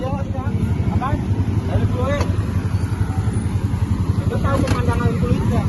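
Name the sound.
dirt bike motorcycle engine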